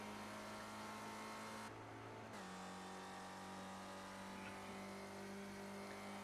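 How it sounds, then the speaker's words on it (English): A race car engine in iRacing, a Spec Ford racer at Summit Point, hums at a steady pitch, with a brief dip and pitch change like a gear shift partway through. "the engine and the shifting sounds we hear out of his car"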